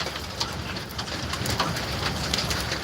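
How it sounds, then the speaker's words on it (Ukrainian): Hail falling outdoors in a storm, a dense, steady hiss of pellets striking surfaces with scattered sharper ticks, loud and continuous with no voices. "Це все град."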